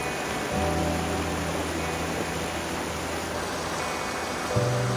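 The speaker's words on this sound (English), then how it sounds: "All kinds of waterfalls from the snow melt." Rushing water from snowmelt waterfalls along a rocky switchback trail on Mt Whitney, a steady broadband roar filling the clip, with a low hum running beneath for most of it.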